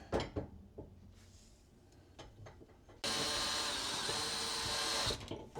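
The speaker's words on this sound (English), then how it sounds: "It's just a matter of taking out a few screws" A power screwdriver whirs steadily for about two seconds while removing screws from the side of a dishwasher rack during a kitchen floor installation, preceded by a few soft clicks and knocks nearby.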